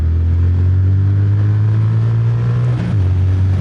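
Triumph Speed Twin 1200 RS motorcycle engine, a 2025 model, running at a loud, steady high rev with a strong low droning tone that dips briefly near the end before holding again.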